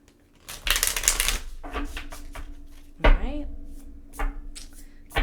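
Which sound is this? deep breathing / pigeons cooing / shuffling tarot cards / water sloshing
shuffling tarot cards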